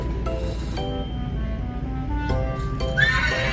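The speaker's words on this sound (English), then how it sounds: "Is that a horse?" A horse neighs in a loud, wavering whinny played as an animal sound in a guessing game, with a second rising whinny near the end.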